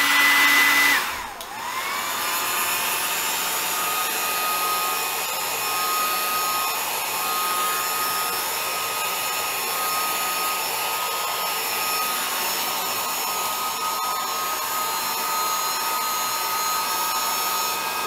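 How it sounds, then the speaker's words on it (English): Heat gun warming the edge of a Samsung Galaxy Tab S5e 10.5-inch (SM-T720/T725) LCD screen during a screen replacement; a steady, loud blowing whir starts after a brief click and runs continuously with no talking. "we'll just heat it gently along here"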